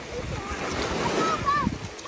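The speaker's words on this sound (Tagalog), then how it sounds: "bawad-bawad gamay ang dagat karon" Small sea waves wash gently onto a morning beach in Cebu, a steady broadband surf wash close by, with a person speaking briefly over it.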